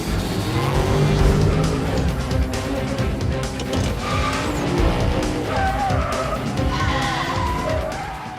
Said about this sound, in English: Seen from above, they speed through the streets.